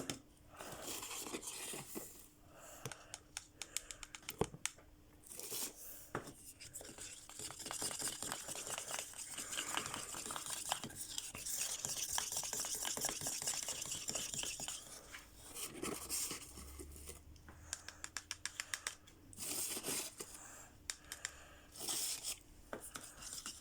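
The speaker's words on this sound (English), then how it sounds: "Because you have to mix it till it's all done in here, until it's properly mixed through." Resin mixed with powder being stirred in a cup for a reptile water bowl: continuous scraping, tapping stirring strokes close by, steady and irregular, with short pauses.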